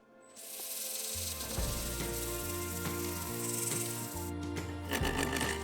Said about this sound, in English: I sanded with 80 grit to remove the last few blemishes